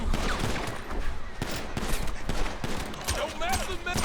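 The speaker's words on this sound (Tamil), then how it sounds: "எவனா சுடுறான்டா?" Gunfire in the video game GTA 5 crackles in rapid, overlapping bursts of shots, fairly loud and dense throughout, mixed with other game noise.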